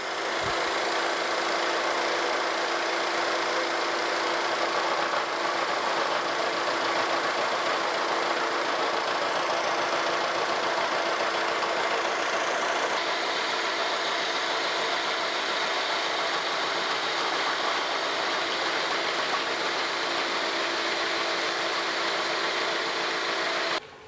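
A machine tool cutting a steel bearing wedge for a steam locomotive, a steady loud mechanical drone and whine that runs unbroken for the whole stretch, close by and with no talking.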